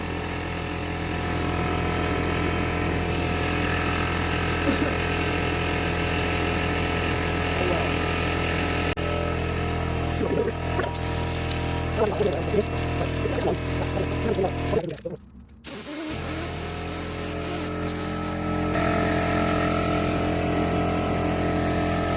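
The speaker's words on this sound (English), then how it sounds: "That tool obviously dumps air way faster than my compressor can keep up." A pneumatic air tool running off a shop compressor while working on a 1965 Ford Thunderbird, a loud steady mechanical whine with hum and rattling underneath, briefly cutting out before resuming, with speech partly mixed in.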